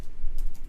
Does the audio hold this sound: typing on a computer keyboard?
yes